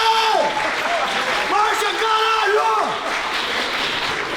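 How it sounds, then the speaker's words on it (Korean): A crowd applauds a fighter after a combat sports match in Korea, a broad wash of clapping that stays steady throughout while an announcer talks over it. "글래디에이터 선수께 다시 한번 뜨거운 박수 부탁드리겠습니다"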